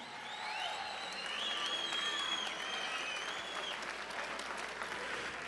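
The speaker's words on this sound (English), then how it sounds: "let's have a nice round of applause for both fighters" Crowd at the Raging Wolf Event Center in Niagara Falls, New York, applauds both fighters after a women's MMA bout, with steady clapping mixed with whistles and cheers.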